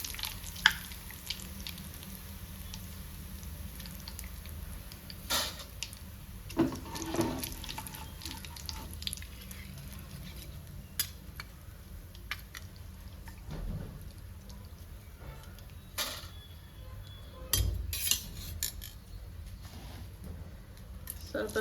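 Flattened rice (avalakki) fries in hot oil, added a little at a time: a steady fizzing crackle with sharper pops and sizzles scattered throughout, heard close up, while a voice talks now and then.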